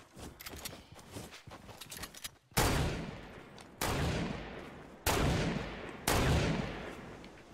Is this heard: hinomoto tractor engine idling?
no